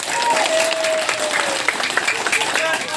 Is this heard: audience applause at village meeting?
yes